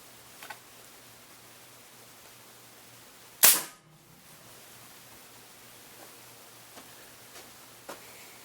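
A single sharp crack of an Air Force Texan .457 air rifle firing a slug stands out in a quiet setting, decaying quickly, with faint mechanical clicks of cocking and the safety before and after.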